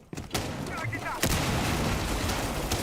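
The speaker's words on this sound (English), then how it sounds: "one of those secondary breach charges goes down, and more explosions all around" Rainbow Six Siege breach charges and other explosions boom during a North American League esports match, a sharp blast followed by dense, continuous rumbling gunfire and explosions, with a voice faintly beneath.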